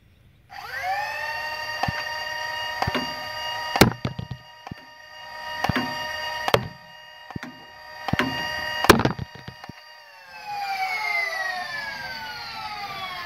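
A Foxfire MBS foam dart blaster spins up its flywheel motors into a steady high whine, punctuated by about six sharp firing clicks, then the motors wind down with a falling pitch; close and alone without talking.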